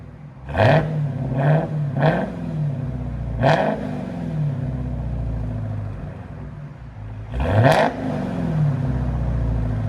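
A Dodge Charger SRT Hellcat with a straight-pipe exhaust revs hard in four loud, close bursts, each a rising roar that drops back to a deep burbling idle between blips.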